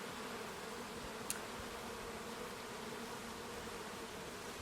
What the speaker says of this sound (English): you can see the bees are surrounding her